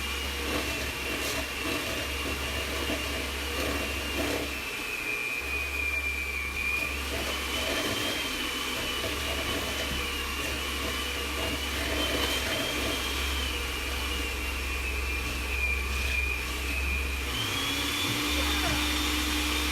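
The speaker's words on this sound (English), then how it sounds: "now we've added those ingredients, we can mix it up again with our mixer" An electric hand mixer whirs steadily while mixing chocolate chip cookie dough in a mini batch, a continuous close motor hum with brief dips where the mixer pauses, and a person talks over it.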